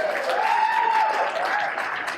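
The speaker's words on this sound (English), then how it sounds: "You give yourselves a round of applause because you're looking so good." An audience at an evening Kiwanis club gathering applauds in a short, dense burst of clapping that stays fairly even for about two seconds.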